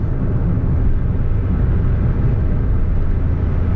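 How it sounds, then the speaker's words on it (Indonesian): Steady broadband rumble of tire and road noise heard from inside a Nissan March 1.2 automatic hatchback cruising at normal speed, constant and moderately loud with no talk. "Nah ini suara ban makin kencang"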